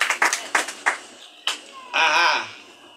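A church audience gives a few sharp claps at a pastor's service, then voices call out and sing brightly over fading room noise.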